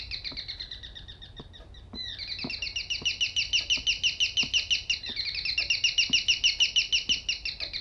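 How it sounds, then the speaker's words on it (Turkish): Bird chirping in the horror video game Devotion, a quick repeated trilling call in long bursts, bright and clear with steady pulsing rhythm and faint ticks underneath. "Bunlar herhalde gerçek kuş koymuş içine."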